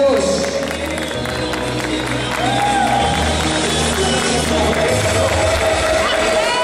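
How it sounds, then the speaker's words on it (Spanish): Steady applause and cheering from a large crowd at a bodybuilding competition, sustained and loud, with a voice faintly audible over the clapping. "fuerte el aplauso para las tres representantes de la categoría figura clase 2"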